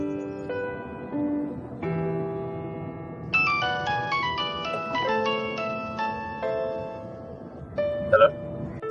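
A phone ringtone in a television drama plays a bright melodic tune of repeating electronic notes, fairly loud and close.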